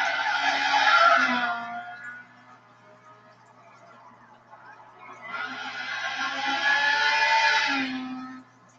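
Race car engine and tyres in Gran Turismo 5 at a race start on the Nürburgring, two loud bursts of revving and squealing separated by a quieter lull, with a faint low hum beneath.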